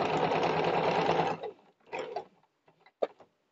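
A sewing machine stitches a box pleated skirt in one fast, loud burst that stops after about a second, followed by a few short starts and clicks of the mechanism.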